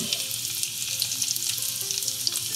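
Sliced king trumpet mushrooms frying in a pan, a dense, steady crackling sizzle close by, with no talking.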